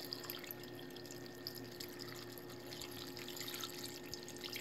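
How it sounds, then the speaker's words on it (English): Water pours steadily into a cooking pot for vegan chanterelle chowder, a faint continuous rushing and splashing with no pauses and no talk. "And the last part of it is 5 cups of water."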